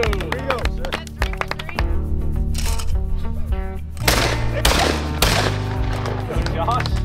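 Shotgun blasts at an outdoor skeet shooting retreat, a rapid string of sharp cracks followed by heavier, louder reports, with voices in the background.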